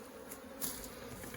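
Honey bees at a reduced hive entrance at a ranch late in the season make a faint, close, continuous buzzing hum, with brief louder passes of individual bees.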